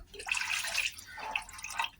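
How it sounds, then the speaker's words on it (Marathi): Water pours into a cooking pot in two short bursts, a bright splashing stream with a brief pause between, close by and fairly loud. "याच्यात आपण आता पाणी टाकूया"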